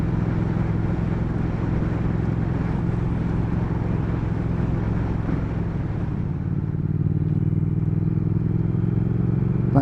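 A 2019 Triumph Speed Twin motorcycle pulling hard under way on a wet road, its engine droning loud and steady with a deep rumble, shifting tone slightly toward the end.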